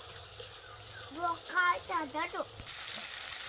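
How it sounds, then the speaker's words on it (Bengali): Spice paste fries in a pan for potol sundari, a steady soft sizzle running throughout while a person talks over it in the middle. "মশলাটা দু মিনিট ধরে কষে নেব"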